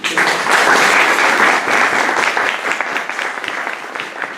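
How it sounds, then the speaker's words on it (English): An audience breaks into a sustained round of applause at a talk about the Holocaust, dense and steady clapping that swells early and then gradually thins out over about four seconds. "All right, nice round of applause, please."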